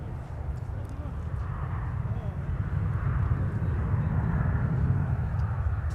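Airbus A220 arriving from Dallas at Minneapolis–Saint Paul airport, a steady low engine rumble that builds slightly over several seconds, with speech running over it.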